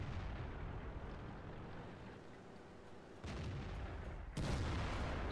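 Tank cannon fire in the game World of Tanks, two heavy booming shots landing over a dense rumbling battle backdrop, fairly distant and muffled, with no talk.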